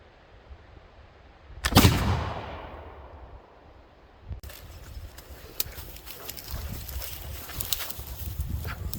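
A single loud gunshot from a Pedersoli Northwest Trade Gun muzzleloader fired with a turkey load outdoors, a sharp close blast with a long rolling decay, followed by rustling and handling noise.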